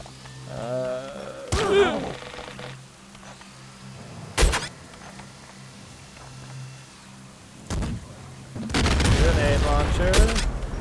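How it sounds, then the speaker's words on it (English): A grenade launcher fires in the Nuclear Throne video game, producing several separate explosive bursts spaced a few seconds apart, the last a longer rumbling blast, with a voice talking in the quieter gaps. "Grenade launcher."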